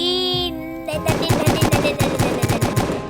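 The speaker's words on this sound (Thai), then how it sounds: "ปืนแกเสียงดังมาก" A loud, fast string of close gunshots from a gun in a video game, evenly paced for about two seconds after a sustained electronic tone.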